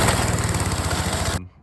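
A mulching lawnmower engine runs steadily and loudly up close with a throbbing low pulse for over a second, then cuts off abruptly.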